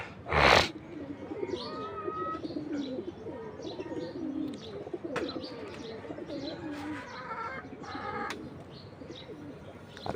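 Domestic pigeons coo repeatedly nearby in soft, rolling calls mixed with light chirps, and a sharp burst of wingbeats sounds near the start as birds take flight.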